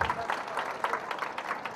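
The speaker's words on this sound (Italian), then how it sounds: "Gli applausi, vedete, ecco gli applausi della gente, Daniel" A crowd at a hill festival gives steady, moderately loud applause with dense overlapping claps, while a voice can be heard talking over it.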